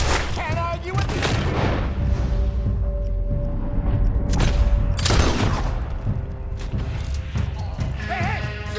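Gunfire and heavy booms in Red Dead Redemption 2, with several loud sharp blasts spaced through a dense, rumbling battle bed that stays constant throughout, with faint horse sounds in the mix.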